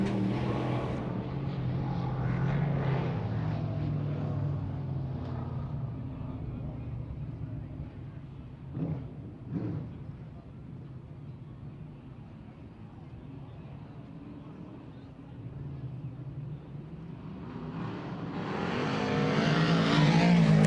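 World of Outlaws Late Model dirt race cars at Georgetown Speedway, engines droning steadily from a distance, with a brief burst midway and a louder roar swelling near the end.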